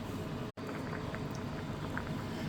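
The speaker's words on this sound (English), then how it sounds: "the soup has now come up to a boil" Carrot and sweet potato soup coming to the boil in a pot, a steady dense bubbling hiss that runs without a break apart from a brief dropout near the start.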